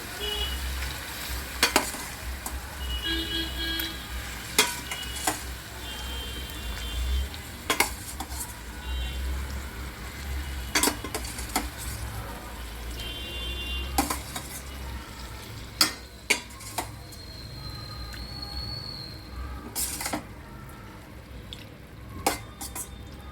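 Cooked chicken liver and mutton fry in masala with a steady sizzle, while a spoon repeatedly scrapes and clanks against the metal pan in irregular strokes, close up and without speech.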